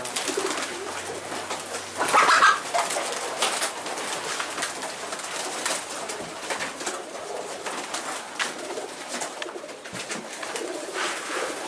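Flock of pigeons in a crowded loft, soft overlapping coos and murmurs continuing throughout with a louder burst of activity near the start, a close, busy ambience without talk.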